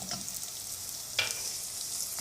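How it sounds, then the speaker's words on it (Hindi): Chopped ginger and garlic sizzle in a pan with onions, a steady soft frying hiss broken by a few scraping stirs. "30 से 40 सेकंड अदरक लहसुन को फ्राई करेंगे।"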